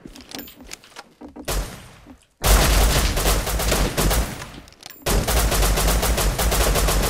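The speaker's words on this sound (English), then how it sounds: "Get ready to start shooting, Boss." Loud, dense automatic gunfire in the survival game Rust, starting with a few scattered shots and then two long sustained bursts of rapid fire, close and overwhelming, with no talking over it.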